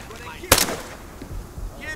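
Gunfire in a hard-difficulty PvE team mission in a video game: one loud close burst stands out, followed by quieter, scattered thuds and shots in the background.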